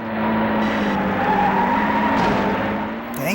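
A game car speeds along the road with a steady engine drone, loud and close, plus brief tire skids and squeals partway through.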